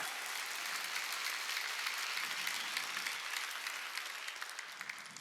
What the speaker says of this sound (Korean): 박수쳐 하나님께.